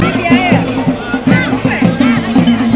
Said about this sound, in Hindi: ब्रह्मांड मेला स्थल पर दर्शकों की भीड़ बढ़ती जा रही है।